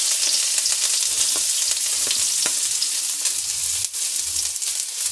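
Onion frying in hot oil in a kadai gives a steady, close, even sizzling hiss, with a few soft stirring scrapes and one brief dip near the end.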